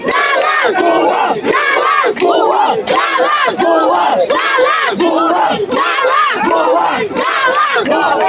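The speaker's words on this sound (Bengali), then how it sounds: "ভুয়া ভুয়া স্লোগান দিচ্ছে Dollar! Dollar!" A large crowd on the Dhaka University campus chants a two-beat slogan over and over in a loud, steady rhythm, the massed voices rising and falling with each repetition.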